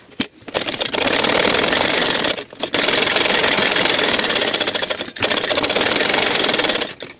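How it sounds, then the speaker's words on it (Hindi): A sewing machine runs steadily, stitching pleats on a saree with buckram backing, its loud continuous motor drone broken by two short pauses between bursts of stitching. "यहाँ पर सिलाई लगा, ऐसे ही डबल सिलाई लगा।"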